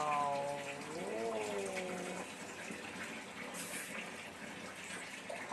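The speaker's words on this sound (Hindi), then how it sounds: "पानी गिरा रही है" Water poured and splashing over a dog during its bath, a steady gushing flow at close range with a faint voice humming along at the start.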